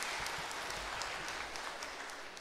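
A church congregation at a wedding service claps steadily for the newlyweds, a soft, even patter of many hands, fairly quiet and without talk.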